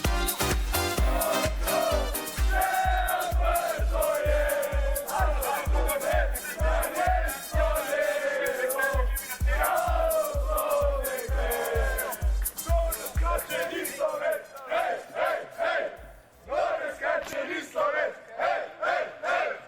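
Slovenian football fans chant loudly in unison at a Frankfurt train station after a supporters' train arrives, with rhythmic claps or drum beats under the massed voices for about thirteen seconds before the beat drops out and the singing carries on.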